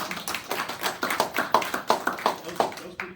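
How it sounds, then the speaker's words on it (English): A small audience clapping in a room, a sparse, uneven patter of individual hand claps close by, lasting a few seconds before fading. "let's give her a round of applause."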